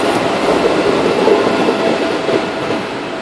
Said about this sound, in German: Das ist der ICE 606 nach Köln Hauptbahnhof.